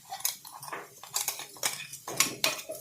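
Damp spice mixture tossed and stirred in an iron pan while dry frying to drive off moisture, heard as repeated clattering scrapes and clinks of a metal spoon against the pan, steady and close.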